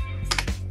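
A few quick, crisp keystrokes on a computer keyboard while entering text in Microsoft Word, close and clear against a quiet room.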